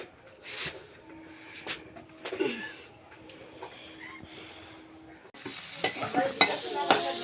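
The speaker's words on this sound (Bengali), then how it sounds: "আমার বর ভেন্ডি ভাজছে" Okra (bhindi) stir-fried in a home kitchen pan, quiet scraping stirs and faint sizzling at first, then a louder burst of crackling sizzle and spatula clatter near the end, with voices talking faintly in the background.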